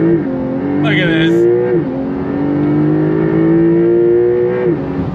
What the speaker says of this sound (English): we're gonna do launch control and really show you how this thing accelerates